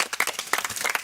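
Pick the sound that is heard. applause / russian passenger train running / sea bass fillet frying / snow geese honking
applause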